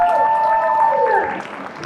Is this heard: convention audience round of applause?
yes